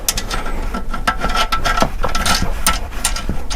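A ratchet tightens nuts onto bolts while a wing wall goes onto a Bronco Slipstream, giving a close, loud run of rapid clicking pawl strokes with short pauses and no voices.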